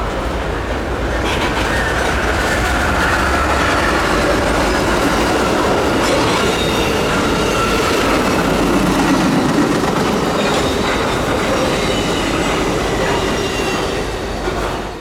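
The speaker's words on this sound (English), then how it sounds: "Amtrak's Crescent cruised by on the main line." Amtrak's Crescent passenger train rumbles past close by on the main line for the whole stretch, steel wheels clattering and squealing faintly over a continuous heavy roar.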